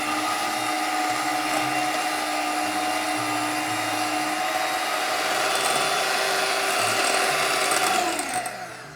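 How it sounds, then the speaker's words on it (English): A hand mixer beats six egg yolks with a loud, steady electric whir and a bright motor whine. It runs continuously for several seconds, then the motor winds down at the end. "Now I'm gonna separately beat 6 egg yolks with my hand mixer until it is very thick and lemon colored."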